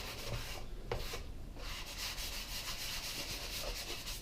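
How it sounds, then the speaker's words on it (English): A 320 grit sanding sponge scuffs lightly over oak or maple wood already dyed brown, giving a close, soft rasping of repeated back-and-forth strokes with brief pauses between passes. "Just a quick little run over with, this is a 320 grit sanding sponge"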